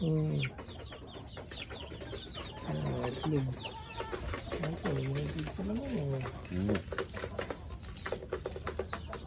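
Free-range Rhode Island chickens cluck and call close by, mixed with cooing birds, under steady conversation between people.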